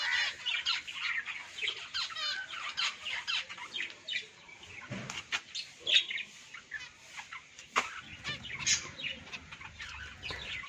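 White and zebra finches in a bird-farming setting chatter with a dense run of high, rapid chirps and squeaks, close and lively throughout with no talking.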